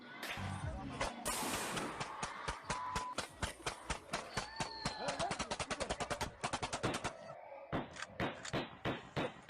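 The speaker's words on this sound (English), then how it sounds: "That's a bump fire." Rapid bump-fire gunshots from a firearm, fired in fast uneven bursts of sharp cracks with brief pauses between strings of shots, loud and close, outdoors on a shooting range with faint voices.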